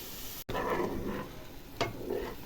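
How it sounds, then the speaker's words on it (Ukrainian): Eggs fry in a pan with garlic scapes, giving a soft, close sizzle broken by a brief dropout and a faint clatter partway through. "Яйця додала і обсмажуємо до готовності"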